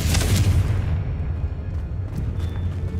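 Confringo and Bombarda explosion spells in Hogwarts Legacy go off as a heavy booming blast that rolls into a low rumbling decay, followed by fainter crackling pops.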